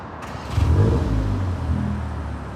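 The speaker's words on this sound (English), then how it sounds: "We got our first muffler delete. It actually sounds louder than what I expected" Exhaust note of a 2024 Volkswagen GTI MK8 with a muffler delete, a deep steady rumble that swells briefly as the engine picks up, then settles into a loud, continuous low drone.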